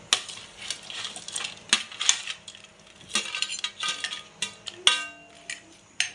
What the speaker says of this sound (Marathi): तर उकळ आलेली आहे तर चिंबोरी सगळे टाकून घेऊया